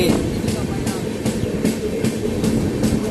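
A Pinakini Express train hauled by a WDG 4D diesel locomotive rolls through Ongole station, wheels clacking in a steady rhythm with loud continuous rumble, heard from on board.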